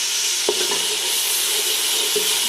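Ginger garlic paste sizzles steadily in a pan of frying tomato masala for pulao, a loud, continuous close-up hiss with a couple of soft stirring knocks.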